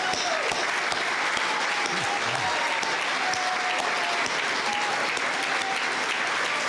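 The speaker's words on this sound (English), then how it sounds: "A round of applause, please, for Mr. Winston Peters." Audience applause, a dense steady patter of clapping that continues throughout at moderate loudness, with a few faint voices in the background.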